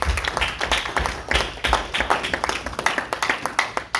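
Church congregation clapping as an offering of acclamation to God, strong claps falling into a regular rhythmic beat that carries on throughout.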